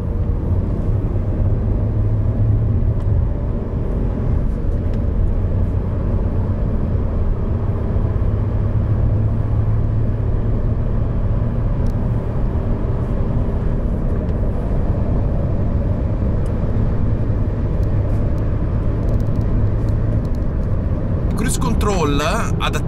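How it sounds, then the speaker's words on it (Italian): Steady low droning hum inside a 90-horsepower 1.0 turbo three-cylinder methane car cruising on the highway in sixth gear at about 3450 rpm, a continuous engine and road rumble throughout. "macchina che nonostante i suoi 90 cavalli del 1000 turbo 3 cilindri è molto silenziosa perché in sesta marcia si viaggia sì a 3450 giri"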